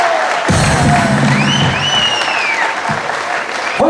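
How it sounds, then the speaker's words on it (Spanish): Crowd applause at a coronation event, loud continuous clapping with whistles and cheering whoops rising over it, sustained throughout. "Fuerte el aplauso"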